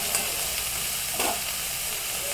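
An eggplant and flat bean curry stirred in a pan after water is added, with a steady soft sizzle and a brief spoon scrape, close by and without talking.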